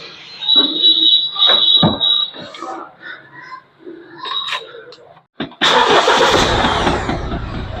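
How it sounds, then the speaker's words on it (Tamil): A car engine cranks and catches before a winch is rewound at home, starting with a shrill whine and voices, then a loud, steady engine roar rising abruptly near the end. "கொஞ்சம் ஃபஸ்ட்டு இன்ஜினை ஸ்டார்ட் பண்ணிட்டு"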